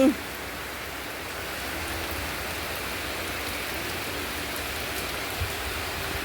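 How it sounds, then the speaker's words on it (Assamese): Steady rain pours down in a dense, even hiss, with occasional louder drips and no voices. "আজি দিনটো নেৰানেপেৰা বৰষুণ দিছে"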